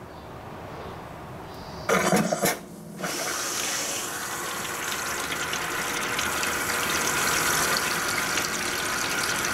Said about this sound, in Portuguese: Aí eu vou apertar, então, o iniciar e ela vai começar a encher de água.